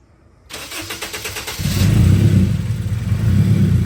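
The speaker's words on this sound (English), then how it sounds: "You want to turn on the car so they can hear it" An Acura RSX with a turbo kit cranks and catches, then revs up to a steady, loud rumble that holds close by.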